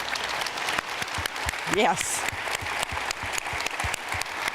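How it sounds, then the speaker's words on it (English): An audience at an evening talk by Eva Schloss breaks into steady applause, with scattered individual claps close by and a brief voice speaking over it. "Why don't y'all stand up and give her a round of applause"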